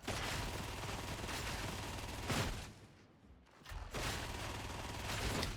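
Autogun bursts in the video game Warhammer 40K: Darktide, dense rapid automatic fire that stops briefly and then starts again, loud and continuous, with no voices.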